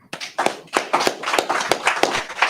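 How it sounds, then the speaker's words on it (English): A small group clapping at the close of a Purim feast class, uneven separate claps in a loose rhythm, fairly close and with no talking. "Clap it up."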